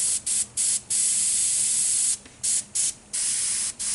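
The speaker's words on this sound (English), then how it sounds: "Look, you can haze all this in because it's dark." An airbrush spraying paint in repeated bursts, a close, loud hiss that starts and stops in short puffs and a few longer passes, with no talking.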